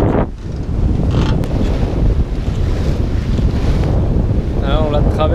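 Strong wind roars steadily against the microphone aboard a sailing boat off Cap de Fer near Skikda, Algeria, in force 5 wind, a loud continuous rumble with water sloshing beneath, and a brief voice near the end.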